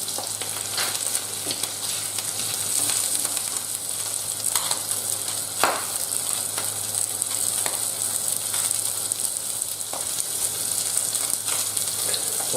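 Salmon fillet frying skin-side down in a hot pan, a steady bright sizzle and crackle throughout with occasional sharper pops and spits.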